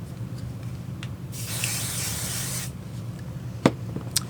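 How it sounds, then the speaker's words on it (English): Basting spray hissing onto felt fabric for an embroidered finger puppet, one steady burst of about a second close up in a quiet room, with a few small clicks before and after. "I'm going to use a little bit of basting spray to secure this piece of felt"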